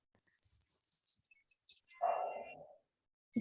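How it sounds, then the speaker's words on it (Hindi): Small birds chirp in quick, high twittering bursts near a flowering neem tree at dawn, faint and fairly close, followed by a brief rustle and a soft knock. "चिड़िया भी की आवाज आ रही है।"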